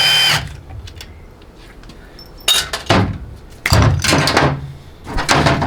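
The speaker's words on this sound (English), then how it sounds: "We'll take the bolts loose," Loosening 10 mm bolts on a GM 200-4R transmission 1-2 accumulator housing with a power tool, several short loud bursts separated by quiet gaps, close up, no talking.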